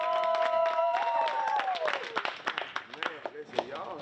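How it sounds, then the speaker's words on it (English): A crowd gathered for a Saturday event in Concord claps hands, with scattered irregular claps and cheers rising under and after a speaker's raised, drawn-out voice, fairly close. "Clap your hands for Miss Linda for putting this together."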